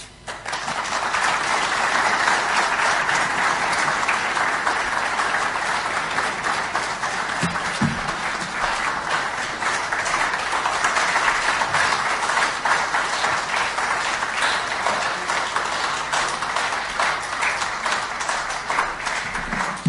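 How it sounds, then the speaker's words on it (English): Sustained, dense applause from a large audience giving a standing ovation after an official's speech on the state of the region, steady and even for around twenty seconds with a few louder claps and thumps. "you have received a standing ovation for giving us a very comprehensive state of the region."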